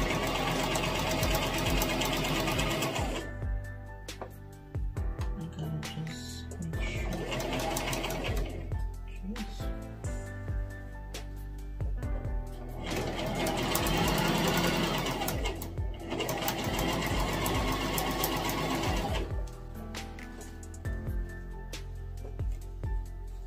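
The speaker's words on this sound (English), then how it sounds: "So while you're sewing, you can move it." A sewing machine stitches ribbon onto a tutu skirt in several long, loud, steady runs of rapid mechanical whirring and clatter, separated by short pauses, with no talking.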